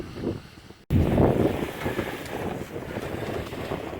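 Wind rushes across a First 25.7 S sailboat under sail at about 12 to 15 knots. A brief handling noise comes first, then a sudden loud burst of wind buffets the microphone and continues as a steady roar with water noise beneath.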